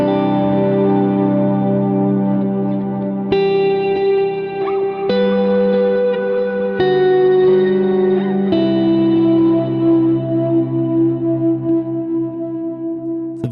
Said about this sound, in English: Same thing for the reverb here.